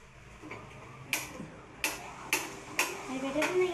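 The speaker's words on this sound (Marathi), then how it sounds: "पहिले गॅस पेटवून घेऊया" A kitchen gas stove igniter clicks about six times at roughly half-second intervals, crisp and close against a quiet room with faint voices in the background.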